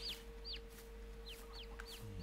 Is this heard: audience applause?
no